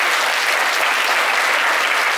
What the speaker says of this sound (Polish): Duże brawa jeszcze raz dla zespołu.